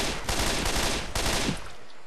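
Gunfire in the Left 4 Dead 2 video game, a loud harsh burst of shooting with sharp cracks, ending with a brief fade.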